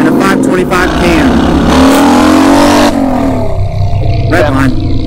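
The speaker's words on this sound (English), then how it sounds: "It's a 2000 Dyna Super Glide Sport." A 2000 Harley-Davidson Dyna Super Glide Sport motorcycle with a big bore kit, 525 cam and loud exhaust revs hard up close, a deep continuous roar with rising and falling engine pitch, with voices talking over it.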